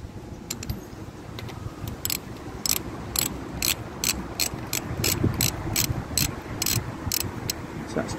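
A ratchet clicks in repeated quick bursts of sharp metallic ticks, close and steady over about eight seconds, while a loose wobbly wheel is tightened.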